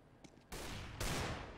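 Gunfire in a Counter-Strike: Global Offensive match comes as two loud, broad bursts of shots about half a second apart, after a faint rattle, with no talk over it.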